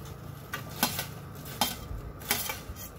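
Carrots, cauliflower and broccoli go into a pot to be boiled for baked vegetable pasta, heard as a run of close metallic clinks and clatters of utensils and pot, spaced about every half second, with no voices.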